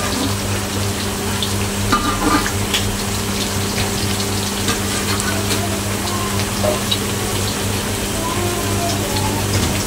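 Squid for sambal sotong sizzles steadily in a pan, a continuous dense crackle with a low hum beneath and occasional faint clinks, with no talk.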